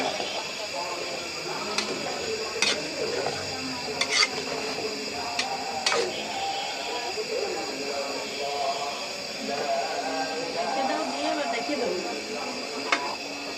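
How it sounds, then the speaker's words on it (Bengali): Beef for a Bengali beef bhuna being mixed with spices, a steady wet squelching and rustling with scattered sharp clicks against a bowl, under a constant hiss; a voice speaks faintly at times. "তারপরে মাংসের সাথে তো ভালোভাবে হ্যাঁ, মাখিয়ে নিতে হবে"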